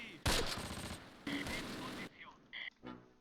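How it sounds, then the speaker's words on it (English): Gunfire in the World War II strategy game Close Combat, set in foggy St. Hilaire-du-Harcouet: sharp bursts of rifle and machine-gun fire crack in quick succession, close and loud, followed by a few shorter pops. "We are getting some fire over here from the right"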